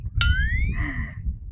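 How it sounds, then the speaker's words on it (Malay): A bell rings once on a kelong fishing platform off Pulau Aman, a bright metallic strike whose ringing tone lingers and fades over about a second above low background rumble. "Bunyi loceng pula."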